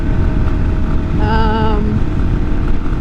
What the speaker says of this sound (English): we can still pick up speed in 5th gear on the XT250